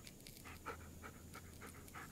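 Dog panting in the Blair Witch video game, a steady quick rhythm of close, breathy huffs continuing throughout with no voices.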